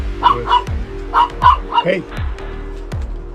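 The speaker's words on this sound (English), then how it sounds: "with barking dogs." Dogs bark in a quick series of sharp, loud, close barks, clustered early and then spaced out with short gaps between them.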